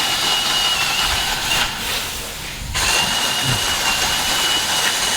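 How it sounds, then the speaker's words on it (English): An auger drills down into a grain bin full of corn during a rescue training demonstration, giving a loud, steady grinding drone that runs throughout and dips briefly before resuming. "Is there an advantage to getting the auger down as far as you can first, or just let it go?"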